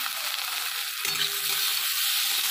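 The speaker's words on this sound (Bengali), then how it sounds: "ভালো করে আমি এগুলো ভেজে নেব।" Chopped carrot and washed moong dal frying in a pan with a continuous close hiss and sizzle, a brief soft clink of a spoon near the middle, no voices.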